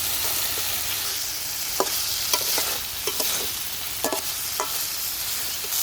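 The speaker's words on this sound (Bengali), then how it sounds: "এখন দিয়ে দেবো ভেজে রাখা মাছ।" Fried rohu fish pieces go into a pan of sizzling, oil-glazed spiced tomato masala and get stirred, with a steady hiss of frying and several sharp scraping clicks of the spoon against the pan, close and with no talk.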